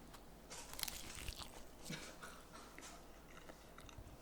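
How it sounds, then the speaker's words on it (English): Soft crunchy biting and chewing of refrigerated homemade grandma-style pizza close up, a series of crisp crackles over a quiet background hiss, with no talking. "And just so you guys can hear a bite"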